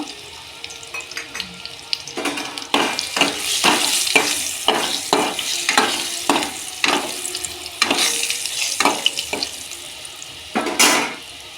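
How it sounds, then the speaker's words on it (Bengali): Eggplant pieces seasoned with salt and turmeric fry in oil with a steady, close sizzle, punctuated by repeated rhythmic bursts of stirring and scraping against the pan. "বেগুনগুলো আমার ভাজা হয়ে গেছে"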